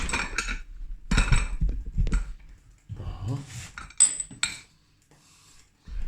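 Metal frying pan clanks and scrapes in a few separate knocks as it is set down on a stove, with short pauses between.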